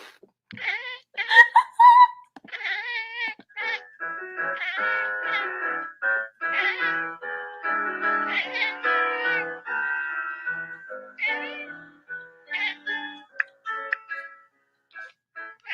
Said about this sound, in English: That cat must not like all the noise she makes